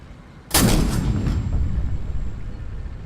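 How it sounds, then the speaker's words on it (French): A single sharp gunshot cracks loudly and then rolls off into a long, booming echo that fades slowly over several seconds, in a wartime scene with a Sherman tank. "Soudain un tir retentit."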